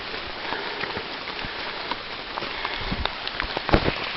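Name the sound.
rain falling on a hiking trail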